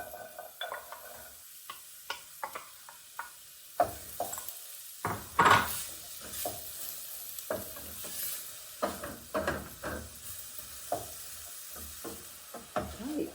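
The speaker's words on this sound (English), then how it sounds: "now I'm going to add the chopped onions" Chopped onions drop into hot rapeseed oil in a pan, giving a burst of sizzling with repeated clinks and scrapes of stirring and a few knocks, close by and without speech.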